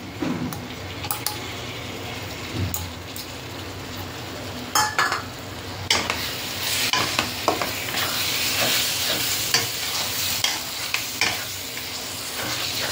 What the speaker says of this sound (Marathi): आणि मसाला छान भाजून घ्यायचा आहे.